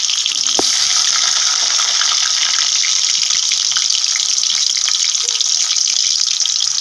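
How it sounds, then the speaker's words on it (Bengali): Potatoes fry in hot oil in a wok, giving a loud, even hiss and crackle that runs close and unbroken throughout. "আর কড়াইতে তেলটাও গরম হয়ে গেছে, তাই আমি এখন আলুটা ভাজতে বসিয়ে দিচ্ছি।"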